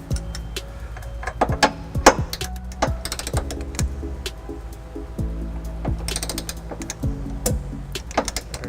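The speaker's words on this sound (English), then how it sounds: "Putting on a 5-inch extension, that way I can get my torque wrench below the hitch here." A torque wrench on a 5-inch extension ratchets a trailer hitch bolt under a 2012 Ford Escape, close metallic clicks and clunks in uneven bursts with repeated pulls and some clanks.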